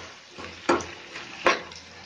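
Pumpkin mixture with cumin powder and other spices stirred in a pan, two distinct spatula scrapes over a soft background sizzle, close and brief, no voices.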